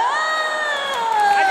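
Studio audience at a televised Chinese New Year gala variety sketch cheers and jeers, a crowd of voices rising in teasing, sliding whoops and shouts that carry through the moment.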